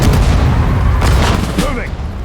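Gunfire and explosive booms in the WWII strategy game Sudden Strike 4 during the British campaign's Battle of El Alamein in the African desert, a dense continuous barrage with heavy low rumble under game voice lines.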